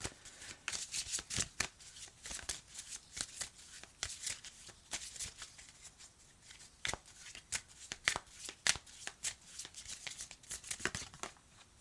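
Moonology oracle cards shuffled by hand in a long, continuous run of crisp riffling and flicking bursts, close and fairly loud, with no voices.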